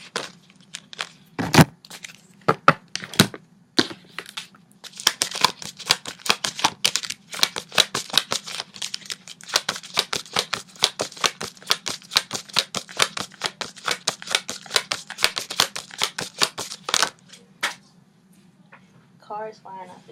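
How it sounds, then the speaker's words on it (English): A deck of tarot cards is shuffled, making a dense run of rapid papery clicks and riffles for about twelve seconds, with a few sharper taps before it and a low steady hum underneath. "Cards flying off the deck for Gemini, of course."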